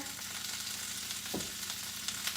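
Broccoli fries in oil in a pan, a soft, steady hiss of sizzling with a brief stir or clink midway, heard alone at low volume.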